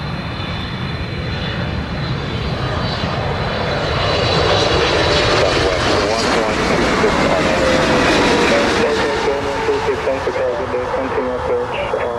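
An airliner landing at Montego Bay airport in Jamaica, heard as a loud, steady jet engine roar that swells slightly midway, with radio voices from the control tower talking over it.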